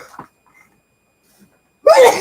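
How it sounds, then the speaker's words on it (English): After a couple of quiet breaths and murmurs, a sudden loud sneeze bursts out near the end, close and explosive. "Oh, I gotta sneeze."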